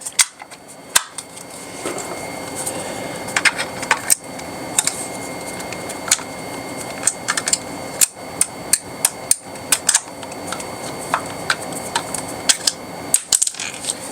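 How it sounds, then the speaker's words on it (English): Small screws dropping and clinking onto a hard surface while a rear hub motor is installed on a VMAX V2 e-scooter, sharp metallic ticks and taps scattered irregularly across the clip. "I'm dropping screws because I left them actually in the cover"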